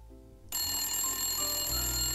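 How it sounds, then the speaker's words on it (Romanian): A telephone starts ringing abruptly, a steady bright electronic trill that carries on without a break, loud and close, with no voices. "De fapt, acum aștept un telefon din America de la fratele meu, Andraș."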